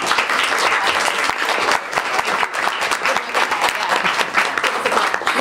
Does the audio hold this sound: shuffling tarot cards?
no